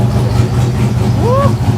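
An engine fitted with a silencer runs at a steady, muffled idle, a low droning hum close by. People talk over it and a brief rising whine cuts in near the end.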